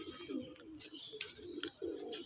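Pigeons cooing in a loft holding adult birds and young, a series of soft, rounded low coos repeating close by with faint chirps and rustling between them.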